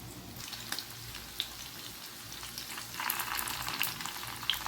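Gola kebabs frying in a pan, a quiet, crackly sizzle with a few small pops that grows a little louder toward the end, heard close and without speech.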